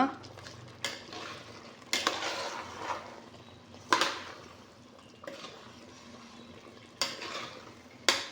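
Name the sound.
mixing rice in a pot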